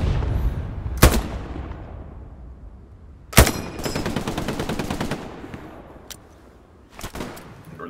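Gunfire in a tank-and-infantry battle video game: a few sharp, loud shots and short bursts stand out over a steady rumble of distant combat. No one speaks.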